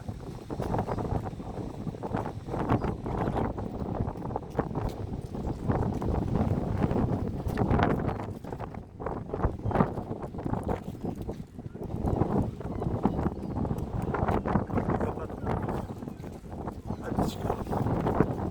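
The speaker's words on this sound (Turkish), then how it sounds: "ama çok da rüzgar var" Strong wind off a rough, swelling sea in Çınarcık roars and buffets the microphone continuously, with a rumbling low-end rush that swells and dips throughout.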